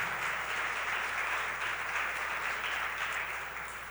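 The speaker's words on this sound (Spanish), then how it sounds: "Aplaude al Señor, al que trae vida" A church congregation applauds throughout a celebration service, producing a steady, dense wash of clapping that stays loud and even for several seconds before easing slightly at the end.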